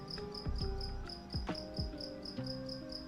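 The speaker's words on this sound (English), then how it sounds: "So that it might sound like there's multiple crickets now, but there's only one." A single cricket chirps indoors in steady, evenly spaced pulses, fairly close and clear, with a few low thumps and knocks in the background and no talking.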